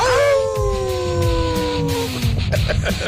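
A man on a sports radio show imitates a howl, a long sliding wail that falls steadily in pitch for about two seconds and ends in shorter yelps, loud and close.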